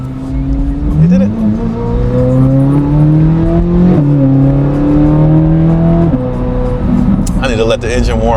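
A 2026 Chevrolet Corvette Z06 3LZ engine, still cold, revving loud and close, its pitch climbing in sustained pulls with sharp drops between them and a rough burst near the end.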